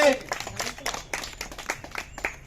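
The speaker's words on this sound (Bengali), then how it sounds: "হাততালি" Children clap their hands together in a classroom, a quick run of close, sharp claps mixed with voices.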